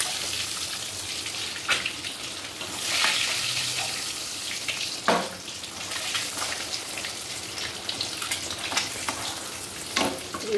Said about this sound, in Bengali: দেখো ডিমটা ভাজা হয়ে গেছে